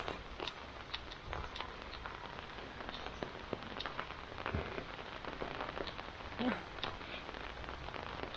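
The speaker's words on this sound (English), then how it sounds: "This is what they call habagat, or monsoon rains." Steady heavy monsoon (habagat) rain pattering and splashing on surfaces, a continuous dense hiss with scattered sharper drops, no voices.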